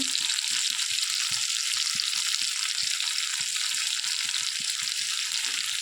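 Boiled small potatoes frying with salt in an oiled pan give a steady, close hiss of sizzling oil, with soft stirring scrapes ticking through it and no voices.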